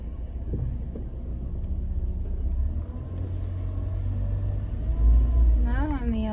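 Car driving along a road, with a steady low engine and road rumble throughout, swelling louder near the end, while a person talks over it.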